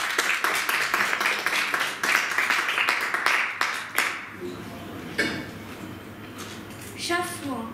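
At a French slam poetry stage event, an audience claps loudly for a child performer for about four seconds, then the applause fades and a voice begins speaking.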